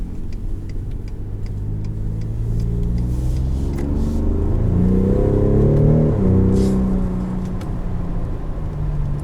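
A 2019 Ford Raptor pickup's engine and exhaust rumble steadily while driving, swelling into a smooth rising rev and then settling back to a low, even drone, loud and close without any talking.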